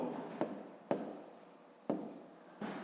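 A pen writes out a math solution on paper, close soft scratching strokes broken by a few sharp taps as the pen is set down.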